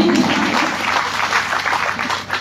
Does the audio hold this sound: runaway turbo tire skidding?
no